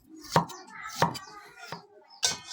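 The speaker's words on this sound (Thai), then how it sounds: "ซอยหอมแดง" Knife chopping shallots on a cutting board for a fish dish, four sharp chops spaced about half a second to a second apart, close and fairly loud with no voices.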